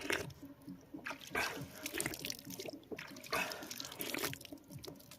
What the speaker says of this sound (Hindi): यहाँ पे एक छोटा सा कुआं दिखा रहा हूँ, ये देखिए यहाँ पे निकलता है पानी